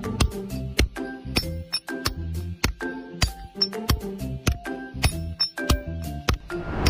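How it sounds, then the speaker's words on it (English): A super thin thermoplastic spring, worked by hand, gives off a quick run of bright, glassy clinks and pings in an irregular rhythm, close and fairly loud with nothing else behind it. "A super thin thermoplastic spring."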